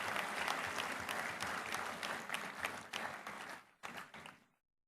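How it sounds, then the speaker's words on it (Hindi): A large audience of students at AIIMS Jodhpur applauds to welcome the Chief Minister of Rajasthan, a dense, steady roar of clapping that thins and breaks off near the end. "एक बार जोरदार तालियों के साथ उनका स्वागत और अभिनंदन"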